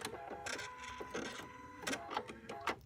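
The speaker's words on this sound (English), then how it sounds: "So this is our needle threading button." A PFAFF creative icon sewing machine runs its automatic needle threader, giving off whirring motor sounds with several sharp mechanical clicks and clunks, close and moderately loud, with no talking.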